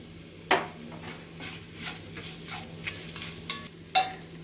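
Coriander powder and curry leaves sizzle in a pan for Kashmiri green chicken curry: a soft, steady frying hiss with quiet stirring and two sharp spoon clinks against the pan, close and without talk.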